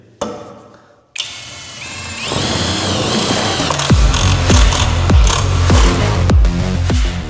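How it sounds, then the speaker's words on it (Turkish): A cordless drill drives a self-tapping screw into 3 mm sheet steel, starting with a rising motor whine, then loud rhythmic ratcheting clatter as the screw bites and seats, close and unbroken by talk. "Şimdi öncelikle 3 milimetrelik saça bir vida atacağız."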